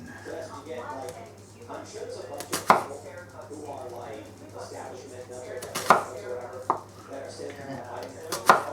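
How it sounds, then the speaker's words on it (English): A knife chops the other half of an onion for Mexican shredded beef, giving a few sharp, separate chopping knocks on a board while a person talks throughout. "we're going to chop up the rest of the ingredients, starting with the other half of this onion."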